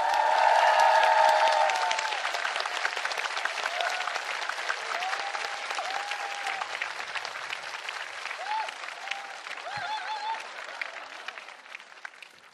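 Sustained applause from a large concert audience at the opening of a mini concert at Dwiran, loud at first and then steady with light cheering, with no talk over it.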